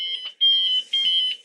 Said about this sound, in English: my shifter's going to start beeping at me